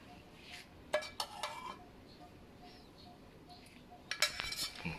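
A spoon clinks and scrapes against a dish while scooping a spicy Thai rice noodle salad with vegetables. Two short bursts of clatter come close up, one early and one near the end, with quiet in between and no talk.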